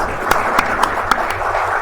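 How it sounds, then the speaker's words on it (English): An audience applauds to welcome a speaker at a formal gathering: steady crowd clapping under a close, even wash of noise, with a few sharper individual claps standing out over the short burst. "may I request everybody to please welcome him with a round of loud applause"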